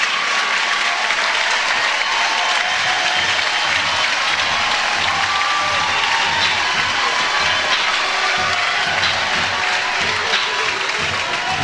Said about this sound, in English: Crowd loved that sacrifice bunt